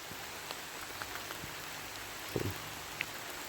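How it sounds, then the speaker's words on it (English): Rain falls in a walled garden at Leith Hall, making a steady, soft, even patter with a few louder drips and splashes standing out near the middle. "It's getting very heavy rain"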